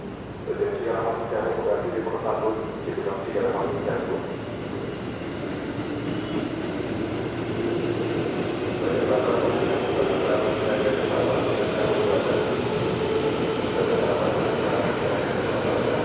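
An electric commuter train (KRL) rumbles and hums steadily at a station platform in Indonesia, with a voice speaking over it early on and the noise swelling as the train quickly picks up speed.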